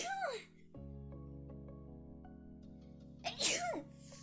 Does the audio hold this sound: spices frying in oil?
no